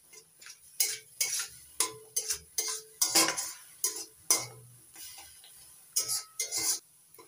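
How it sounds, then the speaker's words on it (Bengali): Spice masala with turmeric and salt being stirred and fried in a pan for potol bharta, a series of sharp, rhythmic utensil knocks and scrapes against the pan, close and prominent, with a faint sizzle beneath. "এবার মশলাটা ভালো করে কষিয়ে নেব।"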